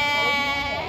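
A goat that has recently kidded bleats at the Surubim livestock market in Brazil: one short, close, loud wavering bleat lasting under a second.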